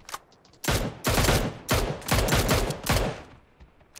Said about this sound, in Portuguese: A mini KTZ agora ela atira. Se você segurar, ela atira.